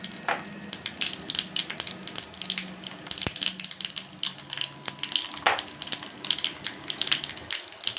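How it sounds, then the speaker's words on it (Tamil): Mustard seeds, fenugreek and dried pepper crackle and spit in hot coconut oil, a close, steady crackling with sharp pops scattered throughout and no voices. "கடுகு போட்டுக்கலாம் கொஞ்சம் வெந்தயம் காஞ்ச மிளகு போட்டுக்கலாம்"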